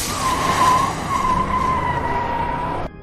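A stolen car skids off in a film scene, its tires squealing in a loud, steady screech for close to three seconds before cutting off sharply, with no voices.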